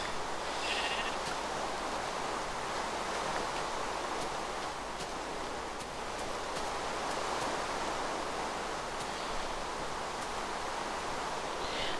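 Sheep bleating in a video game, a couple of brief distant bleats surfacing over a steady hiss of ambient noise and rustling.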